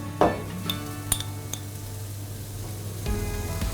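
Chili, paprika and ginger sizzle steadily in hot oil in a pot, the base for a spiced lamb meatball soup, with a soft continuous fry broken by a few light clinks of a utensil against the pan.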